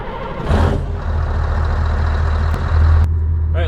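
Scania 4 Series Longline truck with exhaust pipes, its engine droning low and steady throughout, swelling in a couple of louder surges, with a brief burst of hiss early on.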